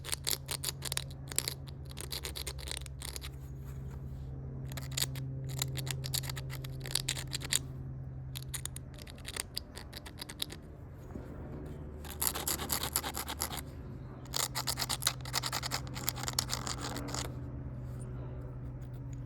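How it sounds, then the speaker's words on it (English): Close, gritty rubbing of a stone edge as a rhyolite Hardaway Dalton point is ground, coming in steady bursts of rapid scraping strokes with brief pauses between them. "Okay, let us grind this area in here."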